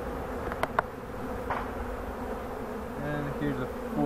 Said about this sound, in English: It's full 5 frames covered with bees, a lot of bees on the sidewalls.